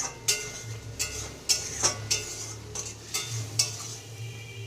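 Spices frying in a pan and being stirred: a series of sharp metallic scrapes and clinks of a spoon against the pan over a low steady sizzle, fairly close and alone without talk.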